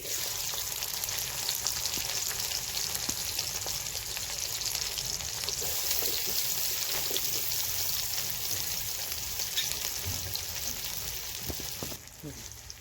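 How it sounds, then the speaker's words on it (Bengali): Onions frying in oil in a pan, giving a continuous close hiss and crackle of sizzling that stays steady and only dips near the end. "এখন দিয়ে দিব তেল, দিয়ে দেবো পেঁয়াজ"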